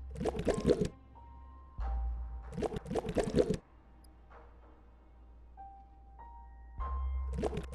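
Toilet flushes in Biomutant gurgle and rush through piping in several separate bursts, with quiet stretches and soft tonal chimes between them.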